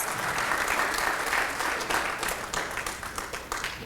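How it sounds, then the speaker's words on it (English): An audience claps at an outdoor Tule Elk celebration event, producing a dense, continuous round of applause that stays strong throughout and thins slightly toward the end. "please give yourselves a big round of applause"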